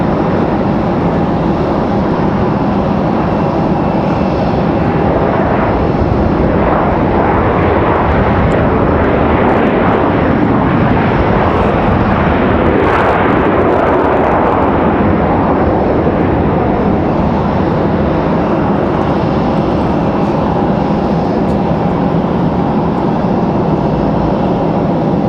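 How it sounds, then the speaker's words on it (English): An Air France airliner taxies at Raleigh Durham International Airport, its jet engines a loud, steady roar and whine held for the whole stretch, swelling slightly near the middle, with no talking. "No light poles were harmed in the taxiing of this Air France."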